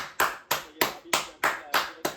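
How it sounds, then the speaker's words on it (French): Eight evenly spaced hand claps from a football coach applauding players at half-time, crisp and close, alone. "Mi-temps, bien joué, on applaudit."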